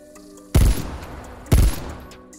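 Two heavy gunshots from the Diamante weapon in Call of Duty on PS5, each a loud, booming burst about a second apart with a short decaying tail, no voices.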